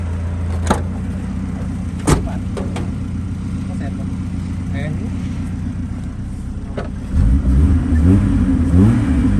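A car engine rumbles nearby with a couple of sharp clicks, then rises into a louder rev near the end, with voices speaking over it.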